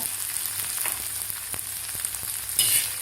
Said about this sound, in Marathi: 1 मिनिटभर आपल्याला लसूण आणि जिरे मिरचीबरोबर भाजून घ्यायचे आहेत व्यवस्थित